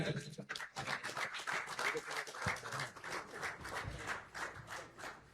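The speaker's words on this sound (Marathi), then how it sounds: "जरा जोरदार टाळ्यांचा कडकडाट." Loud applause and clapping from a crowd at a Ganesh festival mandal celebration in Mumbai, a dense continuous wash of claps lasting several seconds with some voices mixed in.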